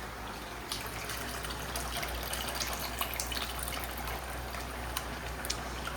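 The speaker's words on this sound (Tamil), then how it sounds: "மசாலா சேர்த்து ஓரளவு கொதிச்சதுக்கப்புறம் புளி தண்ணி சேர்த்துக்கலாம்" Tamarind water pours steadily into a simmering rock fish curry, a continuous close gush of liquid with faint bubbling and small splashes throughout.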